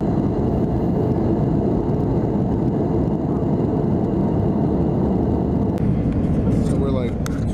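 Steady, loud broadband roar of an airplane cabin in flight, a couple of hours out from Shanghai, continuing unbroken throughout with faint clicks near the end.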